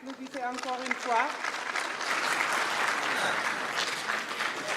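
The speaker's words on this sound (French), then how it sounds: "Applaudissez encore une fois." A ceremony audience at a national diaspora day event breaks into sustained applause. A voice speaks briefly at the start, then the steady clapping carries on at full strength to the end.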